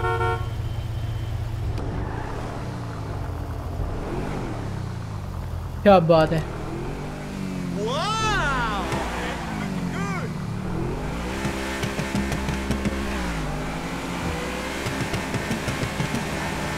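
A convertible Audi R8 in GTA 5 drives with a steady engine drone, a brief horn-like blast and sweeping revs that rise and fall, while someone talks over it throughout.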